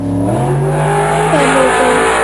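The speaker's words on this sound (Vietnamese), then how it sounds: "Xe mô tô." A motorcycle engine runs loud and close, its pitch climbing and shifting through gear changes across a short burst with no break.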